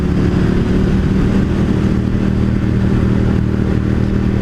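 A 2018 KTM 1290 Super Duke riding a twisty road, the engine droning steadily and close with constant road and wind noise, no voices.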